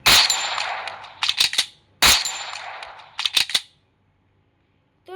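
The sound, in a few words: SMG gunfire in Free Fire Max video game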